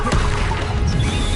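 A Bombarda spell blast in the wizarding action game Hogwarts Legacy: one sharp crash right at the start, followed by a thinner crackling tail and faint magical shimmer.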